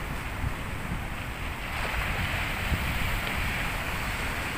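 Sea waves wash and rumble steadily against a breezy background, with a low continuous surf roar and no voices.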